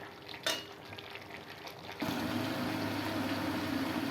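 Water is poured into a cooking pot of bean dish and stirred, and a steady bubbling hiss rises sharply about halfway through. The sound stays close and continuous.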